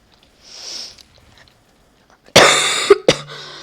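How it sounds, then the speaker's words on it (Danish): A person lets out a couple of harsh, close coughs after a quiet stretch with a faint breathy noise, the second cough short and clipped, during a Counter-Strike gaming session. "Jeg hader den hoste."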